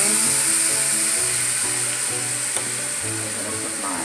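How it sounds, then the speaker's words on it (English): Balsamic vinegar is poured into a hot pan for a fig balsamic pork loin sauce and sizzles loudly with a continuous frying hiss, while a faint steady hum runs underneath. "I'm going to put my balsamic vinegar in."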